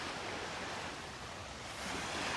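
Ocean surf on the beach at Delnor-Wiggins Pass State Park, Florida, on a calm morning. A steady, broad wash of waves mixed with light wind rushing at the microphone continues without break and without voices.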